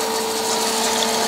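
A Smarty AT-300 runs steadily at about 500 RPM, giving a constant motor hum with a bright whine and airy whirr that holds without change, close and fairly loud, with no voices.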